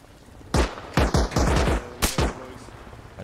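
Enemy gunfire in Arma Reforger, with several sharp, loud shots in quick irregular bursts: one pair, then a cluster of three, then a last shot. Each crack rings briefly and echoes over a quiet background.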